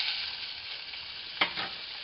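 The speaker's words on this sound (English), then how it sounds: "I'm gonna let that sizzle." Pancetta sizzles in hot olive oil in a pan, a steady close hiss with one brief scrape of stirring partway through and no voices.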